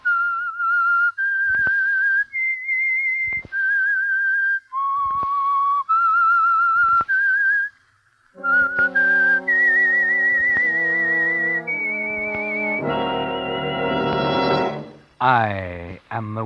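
The theme of the radio drama The Whistler: a clear whistled melody of sustained notes with brief pauses, then joined by a fuller orchestral swell that rises to a bright flourish.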